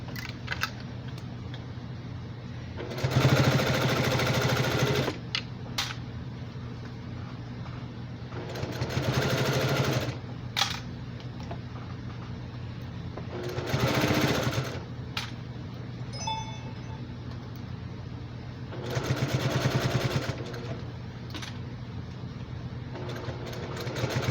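A sewing machine stitches around a quilted fabric basket in several long whirring runs, each a few seconds long with short pauses between, close and steady, with no talking.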